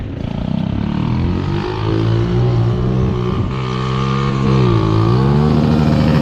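A mini bike engine on the Ford tracks, revving hard and loud throughout, its pitch climbing, dipping and surging again as it passes close by, with no talking.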